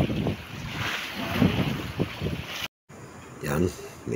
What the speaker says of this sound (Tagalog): At talaga namang sumasagwak na yung tubig dito sa bandang ibabaw.